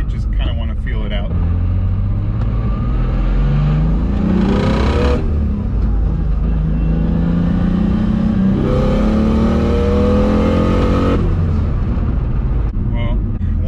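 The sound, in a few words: 750whp BMW 135i accelerating in second gear, 14 psi boost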